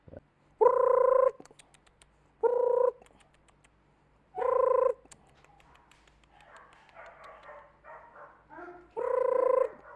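A Scottish Terrier barks in four separate sustained, loud bursts spaced a couple of seconds apart, with faint softer noises in between.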